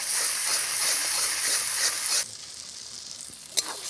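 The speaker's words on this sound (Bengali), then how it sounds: "ভালোভাবে মশলাটা আমি 2 মিনিট কষিয়ে নেব।" Masala spice paste for a koi fish curry fries in a pan with a loud hissing sizzle that drops off abruptly partway through, followed by quieter crackling and a single sharp clink.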